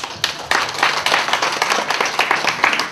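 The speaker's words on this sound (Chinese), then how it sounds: "那我们是不是给大家给自己一个掌声" A room of guests at a charity lantern-lighting event bursts into applause, a dense, loud patter of many hands clapping, close and sustained throughout.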